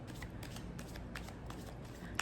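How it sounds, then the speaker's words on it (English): Tarot cards being riffle-shuffled by hand, a steady run of crisp papery flutters and soft slaps at close range, with no talk. "I think this is the last shuffle."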